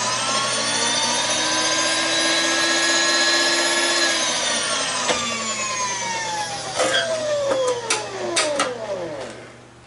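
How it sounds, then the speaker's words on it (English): A machine spins a brand new 4-flute carbide end mill, giving a loud steady whine whose pitch rises and then falls off as it winds down, followed by a few sharp clicks and knocks. "I'm using a brand new 4-flute carbide end mill"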